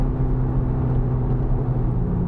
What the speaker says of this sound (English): you can hear that exhaust even better in sport mode